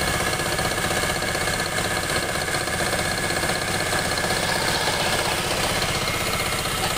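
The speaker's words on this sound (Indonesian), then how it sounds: "Vario Karbu ini suaranya kasar" A rough-running Honda Vario carbureted scooter engine idles steadily close by, a continuous uneven mechanical chatter with no talking over it.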